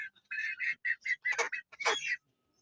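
A rapid series of squawking, clucking chicken calls close by, from five-month-old chickens, repeated in quick bursts with brief pauses.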